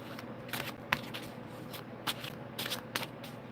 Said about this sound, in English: let me shuffle this deck 1 more time